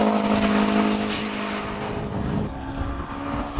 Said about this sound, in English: Birkin all the way up the hill. Turbocharged 4-cylinder.